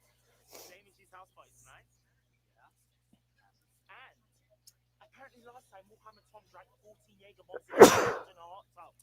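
A single sharp, loud sneeze bursts out between quiet, scattered speech from nearby people.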